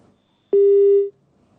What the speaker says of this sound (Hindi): विधायक ने फोन काट दिया है